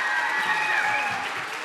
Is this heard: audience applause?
yes